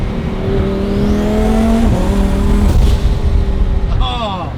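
A twin-turbo Lamborghini Huracan engine is revved loud and close, pitch climbing then settling, with voices mixed in over the engine.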